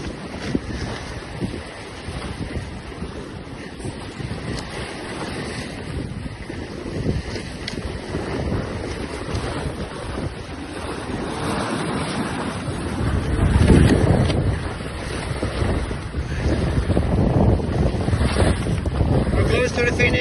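Wind gusting across an H-boat sailing downwind in a regatta off Aarhus, a loud buffeting roar on the microphone that rises and falls, with rushing water and waves beneath and occasional faint voices.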